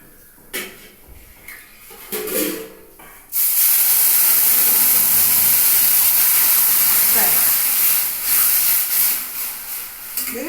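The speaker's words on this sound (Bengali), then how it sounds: "এবার আমি দেবো জল জলটা এখন না দিলে পুড়ে যেতে পারে" Water is poured into a hot pan of semolina cooked in ghee and milk. After a few seconds of faint clatter, a sudden loud, sustained hiss and sizzle bursts up and continues steadily.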